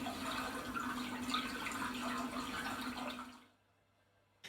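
Steady rushing water from a floating lilies app on an interactive sensory projection system, playing continuously and fairly loud, then fading out to near silence before a brief final burst.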